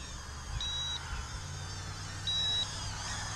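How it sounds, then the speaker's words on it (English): A Snaptain H823H mini drone gives two short, steady high-pitched warning beeps about two seconds apart over a low background hum, with no talking. "So you're going to get the LED flashing and a very annoying beep."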